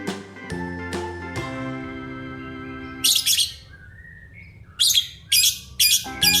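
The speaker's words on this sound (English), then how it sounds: "P for parrot. P for parrot." Bright musical tones ring out and fade, then a parrot gives several short, sharp chirps in quick bursts, loud and close against a quiet background.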